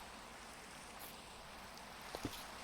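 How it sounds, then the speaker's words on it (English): Rain falls steadily in a video game set around a frozen laboratory, making a faint, continuous soft hiss. Near the end a couple of brief clicks cut through, and no one speaks. "And it's raining, that kills our visibility."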